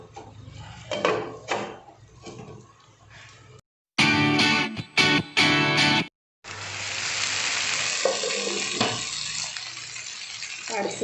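Tandoori chicken fries in a covered pan over a low flame, giving a steady close sizzle broken by clattering lid and pan handling and a brief louder burst of clanks.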